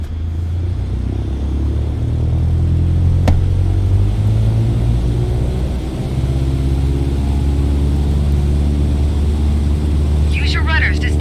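A light aircraft engine runs at full takeoff power in Microsoft Flight Simulator, a loud, steady droning roar with a continuous low rumble that holds for the whole stretch, and a brief click partway through.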